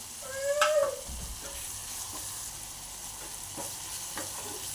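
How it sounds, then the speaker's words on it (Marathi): Masala with turmeric and kasuri methi roasts in a pan for dhaba-style whole masoor, a soft steady sizzle with occasional stirring scrapes; a brief high squeal-like tone rises near the start. "छान आपला मसाला असा भाजून झालेला आहे"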